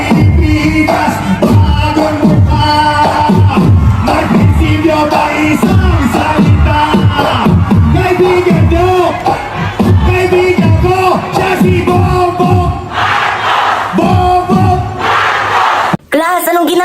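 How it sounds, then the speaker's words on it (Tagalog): A noisy crowd gathers outdoors at a BBM campaign caravan, with a dense, continuous roar of overlapping voices, cheering and loud amplified sound. "May karaban kasi dito sila BBM, kaya expect nyo na maingay. Saka maraming tao."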